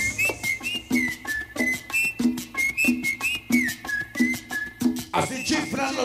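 Repeated shrill whistled calls from a crowd at a sonidero dance event in Guadalupe Tlachco, Tlaxcala, rising and falling in a steady rhythm over loud, pulsing rumba music.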